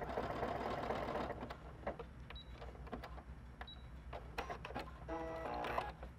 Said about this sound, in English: As I'm sewing this stitch, I'm pulling a little tiny bit against the presser foot